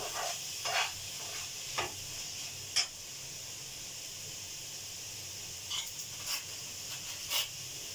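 Nutri nuggets curry sautéing in a pan with salt added, a soft steady sizzle with scattered clicks and scrapes of a spoon stirring, close by with no talk.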